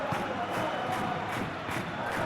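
A stadium crowd in a football simulation video game cheers and roars in a continuous loud wash of massed voices, steady throughout with no pauses.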